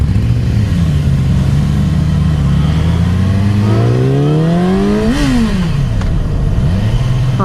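A 2017 Yamaha R6 sport motorcycle accelerates hard nearby, its engine climbing steadily in pitch, peaking with a sharp rev, dropping on a gear change, then pulling again, loud and alone.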